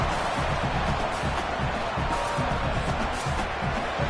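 A stadium crowd in a college football video game, USF against USC, roars on a third-down defensive stand, a dense and steady wash of cheering noise that holds at the same level throughout.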